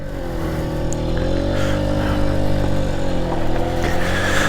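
A 1991 Tomos 50 two-stroke, two-gear moped runs steadily while being ridden, its engine buzzing continuously and close with a rising and falling pitch and no talking.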